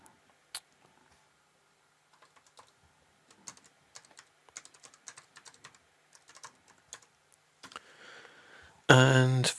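Keys tap on a computer keyboard in scattered bursts of quiet, close clicks with short pauses between them, ending in a louder, dense stretch of rapid sound.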